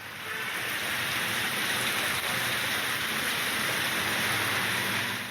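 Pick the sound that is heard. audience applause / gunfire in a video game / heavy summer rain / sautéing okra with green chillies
heavy summer rain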